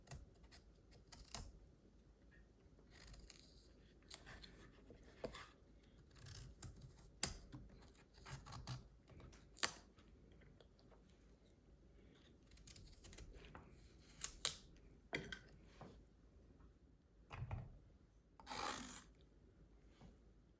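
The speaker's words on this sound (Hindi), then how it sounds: "लौकी को धो लिया, इनको छील के काट लेते हैं।" A bottle gourd being peeled and cut with a knife on a board: soft, quiet rasping scrapes and scattered short chopping clicks in an irregular rhythm, close up with no talk.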